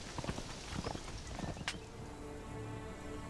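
Horse hooves clip-clopping in the video game Conan Exiles, a light uneven patter of steps over soft ground with faint rustling, moderately close, brief sharp click midway.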